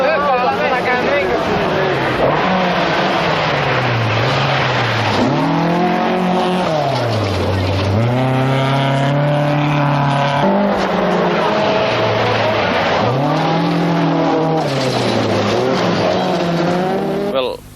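Rally cars race through pouring rain at the 1982 1000 Lakes Rally in Finland, engines loudly revving up and down through gear changes with rising and falling whines, close and continuous, under a commentator's voice.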